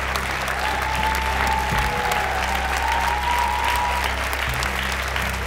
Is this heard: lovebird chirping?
no